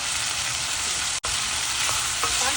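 Garlic and onion sautéing in a pan for a vatha kuzhambu, a steady close-up sizzle with faint scrapes of stirring, continuous and alone apart from a brief dropout.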